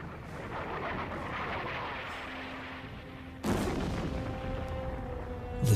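Distant booming rumbles roll on, then a sudden loud blast hits and its heavy echo lingers, like artillery fire from one-ton Big Bertha shells striking concrete forts, with another thump at the end.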